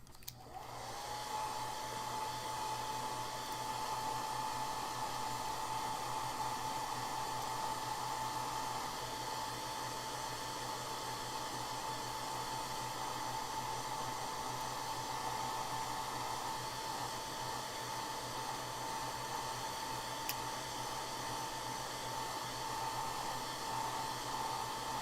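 A hair dryer blows steadily on a watercolor painting of a bird, a constant close whooshing hum with a faint whine that runs unbroken from start to finish.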